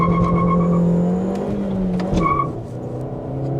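A CNG SUV with traction control switched off pulls hard through third gear, its engine note rising steadily and loud, then dropping with a brief tire chirp before climbing again.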